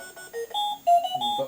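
A Smiggle talking alarm clock plays a short electronic melody of bright, clean beeping notes, close and moderately loud with no talk over it.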